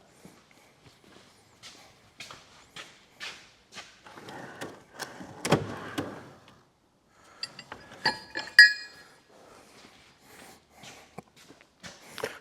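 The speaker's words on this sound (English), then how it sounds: "I'll grab a brass punch and finish putting it home." Brass punch tapping a bearing into the crownwheel carrier of a Massey Ferguson 65 tractor, a series of sharp metallic knocks at irregular spacing, some ringing clinks, in an otherwise quiet workshop.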